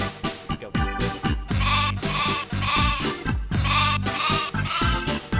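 Sheep bleat loudly and close by in a steady run of quavering, overlapping calls with short breaks between them. No voices are heard.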